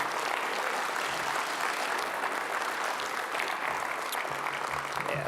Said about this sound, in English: let's give a hand to Maureen Steinwall for all she does